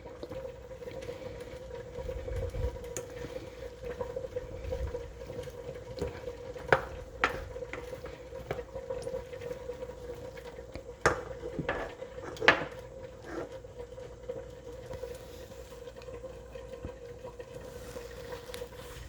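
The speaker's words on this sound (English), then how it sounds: "fresh broccoli crowns with the short stem still attached on them in this saute pan, sauteing down" Broccoli crowns sizzle softly in a saute pan, with occasional clinks and scrapes of a utensil stirring, over a quiet steady hum.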